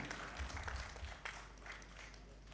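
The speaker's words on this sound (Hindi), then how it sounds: "और डाइस से भी गुजारिश है कि वो भी ताली बजाएं।" An audience and the dais applaud a welcome at a mushaira in Prayagraj. The clapping is steady and continuous, fairly faint and roomy, and lasts the whole time.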